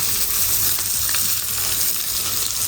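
Bangda (mackerel) fish sizzles in a pan as more oil is added, a dense, continuous close frying hiss with faint stirring, no talk.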